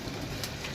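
A brief, soft coo from a Kasuri pigeon, close by, over a steady background hum.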